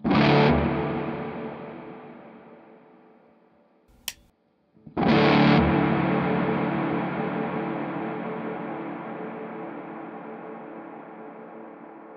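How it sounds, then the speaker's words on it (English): A guitar played through a Walrus Audio Melee distortion/reverb pedal rings out in two distorted chords. The first fades over about four seconds, and after a short gap the second sustains in a longer, washier reverb tail. No voices are heard. "This is for the length of the reverb. This is going to go from, shorter to longer."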